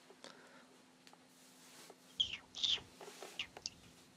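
A person in a Halo 5 Eden Slayer match whistles short, high chirps that imitate a bird call, a few quick bursts that are faint and scattered.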